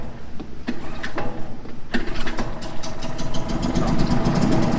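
A Tohatsu 4.9 hp two-stroke outboard motor is pulled by its cord, coughs through a few sputtering catches, then fires and settles into a rapid, rattling idle that grows steadier toward the end.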